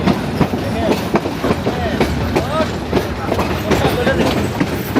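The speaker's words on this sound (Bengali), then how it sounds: "ঢুকেছে এই যে ট্রেন" A train pulls into Parbatipur station in Bangladesh with a close, continuous rumbling clatter of wheels and faint metallic squeals, while voices murmur in the background.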